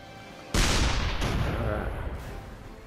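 Grenade shot bursting in the tank artillery game ShellShock Live: a sudden loud boom kicks in and rumbles on with a noisy, sustained blast tail before easing off near the end.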